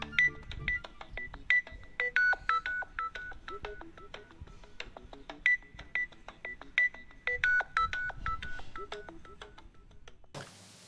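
A mobile phone keypad gives a quick run of short beeping tones as someone taps it, the tones sounding in uneven bursts at low volume with no voices.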